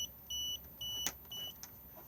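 Several short electronic warning beeps from a Swift Elegance 580 caravan control panel, unhitched from a tow vehicle, sound in bursts, faint and quiet, with a brief click in the middle.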